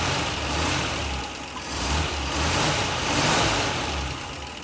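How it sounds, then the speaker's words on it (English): A 1962 GMC CD truck's V6 engine revs close by in a steady, rumbling drone, swelling and easing in gentle rises with no voices over it. "It's got a definitely a V6 rhythm to it, one that I've never heard. You can rev it up a little."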